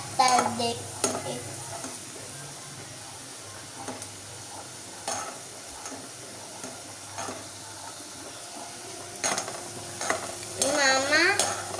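Vegetables frying in a pan while being stirred until golden, a steady sizzle under repeated scraping and stirring strokes, with a voice and clattering near the end.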